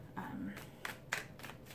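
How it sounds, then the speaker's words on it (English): A tarot deck is given a quick shuffle, with a soft riffle followed by a few sharp card slaps, faint and close. "I'll just do a quick shuffle, and then I'm going to cut that as well into threes"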